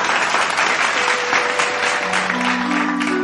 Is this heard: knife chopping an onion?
no